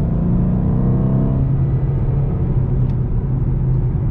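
A stock 2012 Ford Mustang GT with its 5.0 V8 pulls hard from close by, a loud steady engine drone and low rumble with rising harmonics early that settle into a constant roar throughout.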